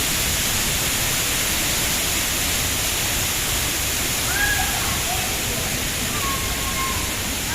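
Malabsay Falls in CamSur roars as a dense, continuous rush of falling water, loud and close, with a few faint voices barely rising above it.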